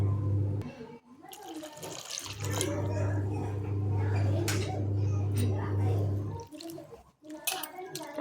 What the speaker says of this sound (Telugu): అటుకులల్లో కొన్ని నీళ్ళు పోసి కడుక్కోవాలి